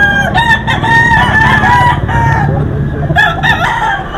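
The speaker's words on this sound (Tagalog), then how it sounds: "may patilaok pa siya, oh. Tiktilaok ang sabi ng manok" A rooster crows loudly up close over a noisy backdrop of other fowl clucking and background chatter, with a second crow starting near the end.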